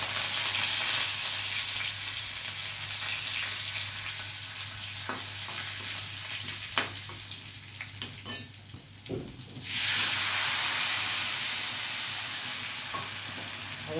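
Asafoetida, green chillies and curry leaves sizzle loudly in hot tempering oil, a steady dense crackle throughout, briefly dipping near the middle before surging back at full strength.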